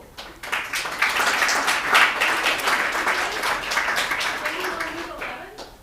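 An audience at a World IA Day event applauds the winners, with a dense wash of clapping that swells within the first second and holds steady before easing slightly. A voice speaks over the applause.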